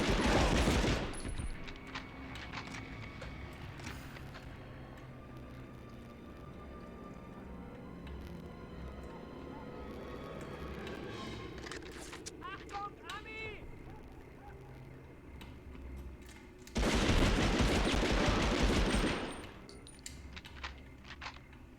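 Gunfire in the video game Medal of Honor, a loud burst of rapid shots near the start and another dense volley later, with quieter game ambience and talk in between.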